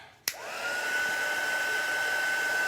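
Hair dryer blowing steadily on a chalk paste craft project, starting with a sharp click and then holding a loud, continuous whir with a whining tone, close to the microphone and alone.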